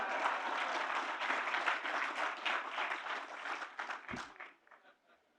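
Indonesian audience applauds in a large hall during a presidential speech at the launch of village cooperatives, a dense wash of clapping that swells and then tapers off to near silence.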